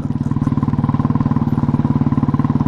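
A Royal Enfield motorcycle engine thumps steadily as the rider engine-brakes downhill in gear, with a loud, close, rapid even pulse throughout.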